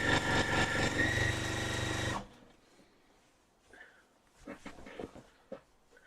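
A sewing machine stitches a seven-inch inner border onto a quilt, running loud and steady with a dense mechanical whir for about two seconds before stopping abruptly, followed by quieter scattered handling noises.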